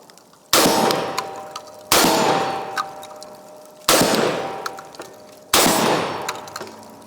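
Beretta shotgun fired until empty, four loud close shots spaced about one to two seconds apart, each with a sharp crack and a ringing decay.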